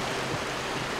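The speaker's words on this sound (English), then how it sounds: "Down this waterfall." A waterfall in the video game The Talos Principle pours as a steady, dense broadband rush. The roar stays even and continuous, moderately loud, with no voices.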